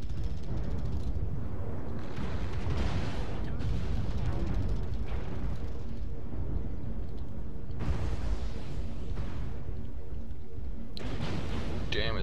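Small machine guns and lasers firing in a Mechwarrior video game battle, a dense run of rattling bursts and booming impacts that keeps going throughout, loud and continuous, with a voice underneath at times.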